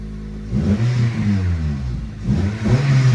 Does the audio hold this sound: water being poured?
no